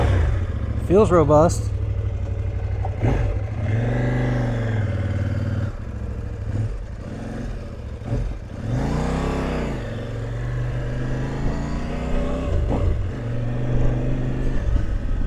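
A KOVE 800X adventure motorcycle starts up and pulls away, its engine rising and falling through repeated revs and accelerations, close and loud, with someone talking over it.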